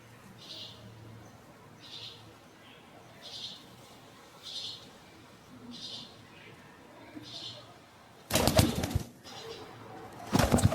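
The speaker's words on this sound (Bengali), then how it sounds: "সব গিরিবাজ জাতের কবুতর" Giribaz pigeons being hand-fed, with soft repeated coos and rustling at low level, then two loud bursts of wing flapping near the end.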